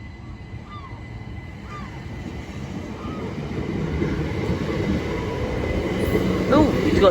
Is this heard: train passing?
yes